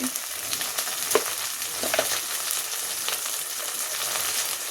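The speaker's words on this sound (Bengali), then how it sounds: "এখন আমি এর মধ্যে মশলাটা দিয়ে দিচ্ছি" Onions frying in a pan as spices are tipped in, with a close, steady sizzle broken by a few light clinks and scrapes of a spoon, no talk.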